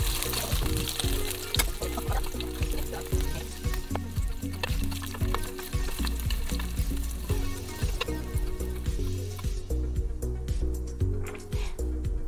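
Frozen sorghum pancakes, susu bukkumi, frying in oil in a pan over low heat, a steady close sizzle and crackle with soft clinks, continuing throughout.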